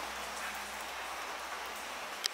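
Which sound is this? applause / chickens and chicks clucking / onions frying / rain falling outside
rain falling outside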